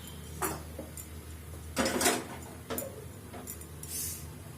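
A metal kadhai set down on a gas stove, giving a few separate clanks and scrapes of cookware close by, with no talking.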